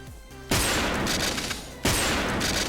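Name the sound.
sniper rifle gunshots in a video game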